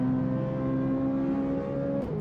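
A racing car engine in the video game Automobilista 2 holds a high, steady whine, then the pitch drops as it eases off, ending with a couple of sharp clicks.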